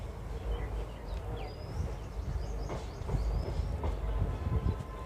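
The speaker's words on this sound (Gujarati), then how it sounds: "અને પ્લેટફોર્મ નંબર 1 ઉપર આવી છે આપણી ટ્રેન" An Indian Railways train, 09565 or 09513, pulls into platform 1 at Junagadh with rumbling wheels and rhythmic clacks over rail joints. It grows louder toward the end, with a few birds chirping faintly above.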